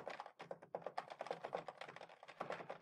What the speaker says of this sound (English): we just start typing like crazy people